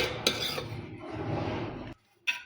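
A metal spoon scrapes and rubs against a paddu pan, working leftover batter free in short raspy strokes, then stops for a moment before one last brief scrape.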